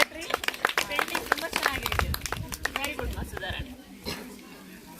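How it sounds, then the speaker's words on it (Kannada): An eighth-grade classroom breaks into applause, with a dense patter of many children's hands clapping close by, loud at first and thinning toward the end, and voices mixed in. "ಜೋರಾಗಿ ಚಪ್ಪಾಳೆ"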